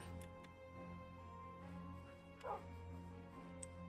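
Soft dog barks and yips from the Minecraft video game, faint and brief, sounding over a steady background hum with no clear talking.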